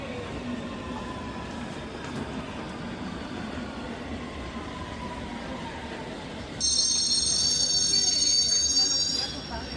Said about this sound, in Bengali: ট্রেন আসছে, ট্রেনে উঠবো এখন।